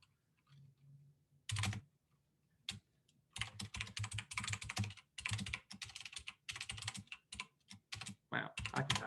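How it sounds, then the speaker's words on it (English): Rapid bursts of typing on a computer keyboard, close and fairly loud, arriving in clusters of quick key clicks separated by short pauses, with no voices. "Wow, I can type."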